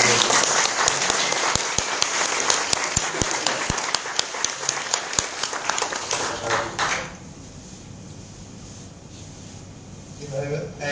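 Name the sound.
audience applause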